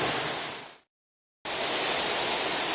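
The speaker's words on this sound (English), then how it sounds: "in front of us we have what looks like a waterfall or rain" Water pours steadily down inside a mine drainage tunnel where a pit drains in, making a loud, dense, even rushing hiss like a waterfall or heavy rain, cut briefly to silence partway through before resuming just as strongly.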